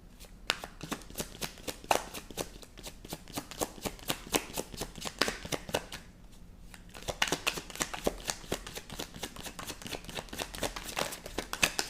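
A tarot deck is shuffled by hand close up, giving quick, crisp riffling and flicking card sounds in repeated bursts, with a brief pause midway before the shuffling resumes.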